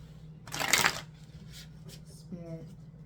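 Oracle cards being shuffled during an eclipse reading: one brief riffling burst near the start, then a quiet low hum with faint soft rustles.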